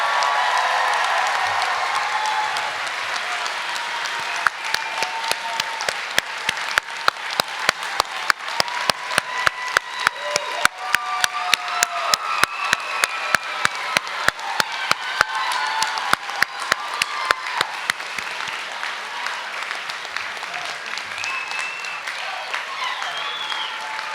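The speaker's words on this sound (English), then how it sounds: "please join me in congratulating the 30th Lone Star College-Tomball 2019 graduating class. Round of applause." Sustained applause from a crowd at a 2019 college commencement ceremony for the graduating class, a long dense wash of clapping with some sharper individual claps, steady and fairly loud, under a voice over the public address.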